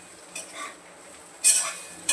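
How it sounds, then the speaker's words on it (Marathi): A spoon stirs kadhi with kokum in a pot over a low gas flame, giving a few soft scraping strokes, with the loudest sweep near the end against quiet background. "आता थोडंसं बारीकच गॅस ठेवलेला आहे हलवून घेते जरा"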